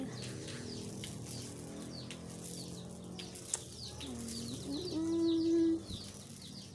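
Birds and chickens calling and cooing outdoors, with a clucking chicken call near the end amid a busy background hum.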